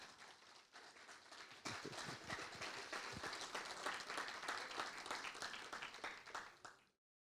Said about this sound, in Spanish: Déjale un aplauso al Señor.